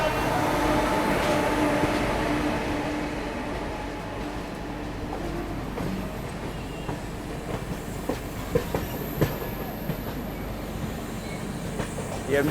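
An express train from Chennai Central bound for New Delhi rolls through Bhopal Junction, with a loud continuous rumble, clickety-clack of wheels and occasional squeals, close by on the platform.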